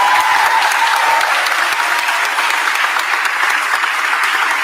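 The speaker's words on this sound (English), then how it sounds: "Can you give them a round of applause?" A crowd at a mayor's press event applauds city workers and the fire commissioner, loud, dense and steady clapping sustained throughout with no break.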